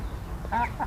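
A duck quacks twice in quick succession, short nasal calls close by on a Thai farm, over a low rumbling background.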